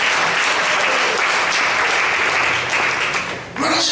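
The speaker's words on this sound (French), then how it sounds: "Acclamons le Seigneur pour notre pasteur." A church congregation applauding their pastor during a Sunday service, dense steady clapping from a crowd that fills the room, fading briefly before a voice cuts in at the end.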